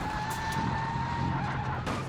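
A Carbonworks F4 car in BeamNG.drive at West Coast USA screeches and skids at speed through a chicane, a steady tire squeal and engine drone with a sharp impact near the end.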